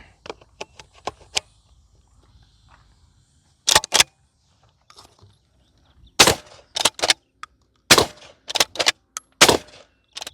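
Twelve-gauge shotgun firing double-aught buckshot through a JK 195 suppressor, several sharp, loud reports spaced a second or two apart, some followed by quick mechanical clacks, with quieter handling noises between.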